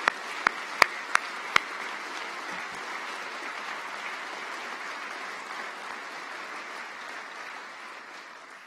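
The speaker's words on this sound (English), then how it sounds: "So please can we hear some applause" Audience applause at a university winter graduation ceremony, a steady broad wash of many hands clapping that carries on evenly for several seconds before slowly easing off, with a few sharp distinct claps standing out near the start.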